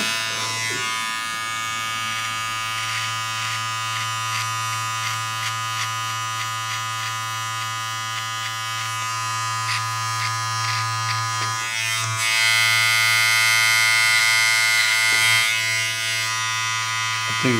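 An electric razor shaves a man's head at a barber shop, a steady close buzzing hum that runs the whole way through and gets a little louder near the end as the blade presses in.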